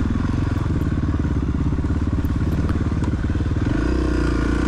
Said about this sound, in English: his Yamaha kickstart to my left there